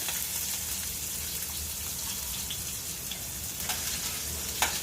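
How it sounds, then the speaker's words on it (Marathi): Chopped onion fries in a pan of oil with cumin, asafoetida, curry leaves and chilli pieces for a fenugreek-potato dish, a soft steady sizzle with a few light clinks near the end, no voices. "आणि कांदा छान परतून घेऊया"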